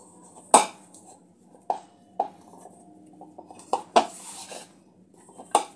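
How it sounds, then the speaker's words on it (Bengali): Sweet potato and flour being mixed into a dough in a bowl, with scattered sharp clinks and knocks of a utensil against the dish between quieter stretches. "এইভাবে সমস্ত উপকরণগুলো মিশিয়ে একটা ডো তৈরি করে নেব।"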